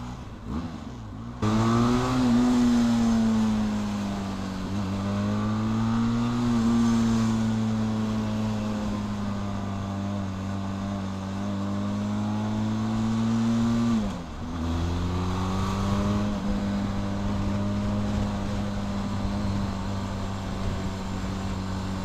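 Benelli 502C motorcycle with modified, software-tuned engine and aftermarket exhaust, idling then revving in smooth rising and falling sweeps, with a brief drop around the middle before climbing again, loud and close with no talk.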